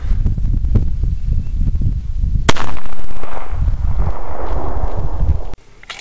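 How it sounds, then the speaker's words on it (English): Loud 9mm gunfire from 147 grain Winchester Ranger rounds fired at close range into a bullet test medium outdoors, with a sharp crack and booming rumble, heavy background noise and another abrupt report near the end. "Alright, all these shots are going to be from 3 paces, a common combat distance."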